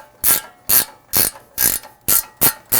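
Seven evenly spaced ratchet bursts from a 19 mm wrench breaking loose a castle nut on a Toyota Tundra ball joint, each a sharp clicking stroke about half a second apart, close and loud with no talk.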